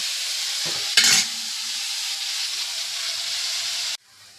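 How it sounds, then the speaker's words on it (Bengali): Potatoes fry in a pan as turmeric and salt go in, giving a steady close sizzling hiss with a brief louder burst of stirring near the start; the sizzle cuts off abruptly toward the end. "এই যে আলু ভাজি, এবারে এর মধ্যে হলুদ দেবো, একটু নুন দেবো"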